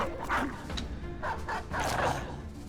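A Houndmaster's dog in a video game barks several times in quick bursts, close and fairly loud over low battle background noise.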